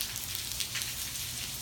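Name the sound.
rain during a thunderstorm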